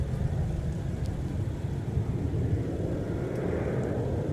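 Jet airliner taking off from runway 17 at MSP airport, heard as a steady, broad low roar with wind-like rumble, moderately distant and continuous without voices.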